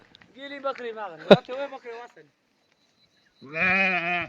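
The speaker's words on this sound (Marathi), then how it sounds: "त्यांची मेंढी त्यांच्या मेंढरा मेंढरामध्ये पळून गेली आली होती आमच्यात" Sheep bleat in a forest grazing area, a loud wavering cry near the start with a sharp knock in the middle, then silence before a second long bleat close by.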